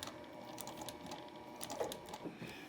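A sewing machine runs steadily, stitching binding onto an Irish Chain quilt as it nears a corner, giving a continuous low mechanical whir at close range, quiet and even, with no talk.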